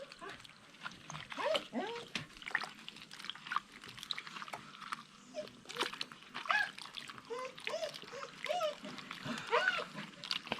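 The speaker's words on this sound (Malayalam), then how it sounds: "ഇത് ഒരു വെള്ളം കൂടി ഒഴിച്ച് നമുക്ക് കഴുകാം" Breadfruit pieces are washed by hand in a basin of water, giving repeated close splashes and sloshing with dribbles, steady and moderately loud across the whole stretch.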